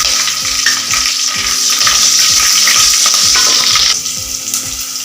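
Small onions, garlic and green chillies fry in oil for a dried-fish curry, giving a loud, continuous sizzle broken by regular scraping stirs of a spoon in the pan.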